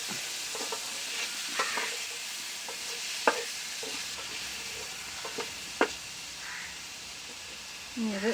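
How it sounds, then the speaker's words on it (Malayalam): Kerala-style pepper fish fry stirred in a pan after lemon juice goes in, a low sizzle with scattered scrapes and clicks of the spoon, close and quiet, while a voice talks over it. "ലെമൺ ജ്യൂസും കൂടെ ഒന്ന് ചേർത്ത് കൊടുക്കുക ചുറ്റിന് അതിനുശേഷം നല്ലപോലെ ഒന്നും കൂടെ ഇളക്കി നമുക്ക് മൂടി വെക്കാം"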